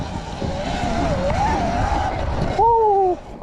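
A Yamaha TTR dirt bike engine whines close by, its pitch wavering as it revs toward a ramp. It ends in a brief, higher, sharper rev before cutting out.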